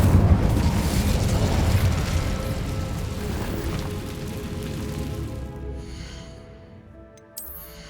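Incendio fire spell cast in Hogwarts Legacy, a loud roaring burst of flame that sustains as a broad whooshing crackle, then slowly fades over several seconds, ending with a brief bright magical chime.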